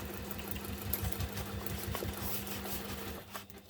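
A sewing machine runs steadily, stitching a seam on a messenger bag with a rapid, even mechanical rhythm close by, slowing to a stop at the end.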